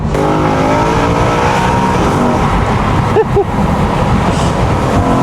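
A 1993 BMW M3 with a V8 drives along, its engine a steady, loud drone from inside the cabin, with a brief sharper burst near the middle.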